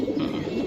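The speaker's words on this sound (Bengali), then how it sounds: "জুম্মন ভাই আজকে কবুতরগুলো খুব সুন্দর" Pigeons coo steadily in a dense, overlapping low murmur, close and fairly loud, with no pause across the short stretch.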